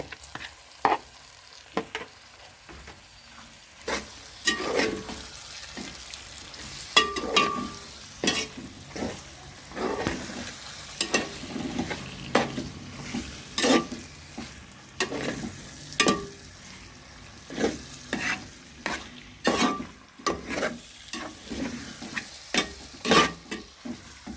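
Onion being stirred and fried into a gravy paste for Lahori chicken, with repeated sharp scraping strokes of a spoon against the pan over a steady sizzle, close and moderately loud, no talking.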